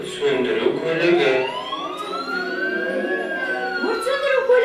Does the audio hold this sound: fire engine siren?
yes